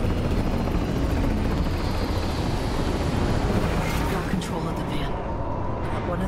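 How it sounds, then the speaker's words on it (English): Combat chopper in Cyberpunk 2077 hovering over the city, a loud continuous rotor drone with rumbling wash filling the whole stretch at steady volume, with speech briefly over it. "NUS combat chopper is buzzing the free city of NC"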